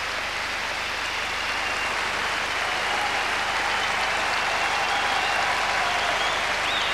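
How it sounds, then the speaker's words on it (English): Mixed international crowd applauding and cheering at an Olympic figure skating medal ceremony for Torvill and Dean, a dense, sustained roar of clapping that fills the arena and swells slightly toward the end. "Cheers, roars from this very mixed audience from all nationalities around the world"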